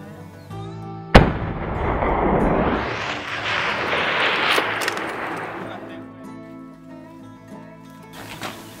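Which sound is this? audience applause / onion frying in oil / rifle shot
rifle shot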